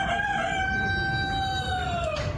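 Rooster kept inside a Moscow apartment, crowing one long drawn-out cock-a-doodle-doo that is loud and close, with a steady background hiss.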